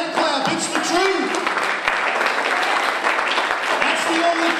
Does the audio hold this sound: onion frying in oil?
no